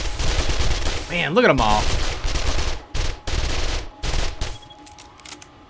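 Rapid bursts of SMG fire in the zombie survival game 7 Days to Die, loud and close, several sustained volleys broken by short gaps, with a voice speaking briefly over the shooting.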